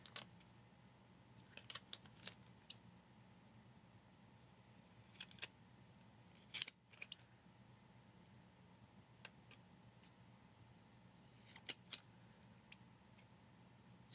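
Scissors cut a sticker in a quiet room, with a few soft, scattered snips and clicks spaced across a faint background hum.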